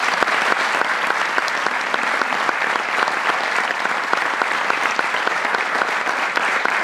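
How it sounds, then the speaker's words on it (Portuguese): Sustained applause from a festival audience at a children's and youth song contest in Madeira, dense steady clapping throughout without pause, loud and close. "Um forte aplauso para eles"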